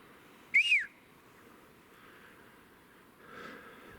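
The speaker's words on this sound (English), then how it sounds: "whistles." A sharp, bright whistle rising then falling rings out once outdoors in snowy woods, followed about three seconds later by a fainter, hazier whistled tone over a low steady background hiss.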